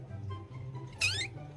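A cat lets out a single short, rising meow, fairly faint and close, over a low background hum.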